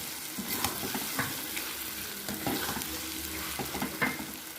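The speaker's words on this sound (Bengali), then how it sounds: "এবার আবারও মশলাগুলোর সঙ্গে ভালো করে কষিয়ে দিচ্ছি।" Pre-fried potato and capsicum being stir-fried with spices for chana paneer, a moderate continuous sizzle broken by irregular spatula scrapes and knocks against the pan, no voices.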